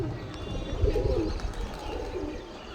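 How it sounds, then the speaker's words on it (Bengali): A male pigeon coos softly at close range, a couple of low rolling coos over a quiet room background, with no speech. "পায়রাটা এনে দেখাচ্ছি। এই যে পায়রাটা, ভালো পায়রাটা, এটা নর পায়রা"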